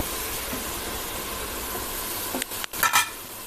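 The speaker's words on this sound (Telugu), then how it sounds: "ఈ తురుము అయితే ఫస్ట్ ఇలాగా పచ్చివాసన పోయే వరకు 2 మిక్స్ చేసేసుకుని ఫ్రై చేసుకోవాలి ఒక 5 మినిట్స్." Grated carrot frying in ghee for halwa, a soft continuous sizzle with stirring, then a few clinks and scrapes of a utensil against the pan near the end; no voices.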